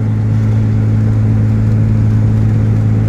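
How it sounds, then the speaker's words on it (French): A Ligier JS50L Élégance microcar from 2017 with a DCI engine drives along, its steady droning hum and low whir continuous and fairly loud throughout, with no voices. "Un moteur DCI tout à fait remarquable."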